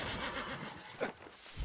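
A horse in the video game New World gives a drawn-out whinny with a quavering rise and fall, then a short snort, quiet and close.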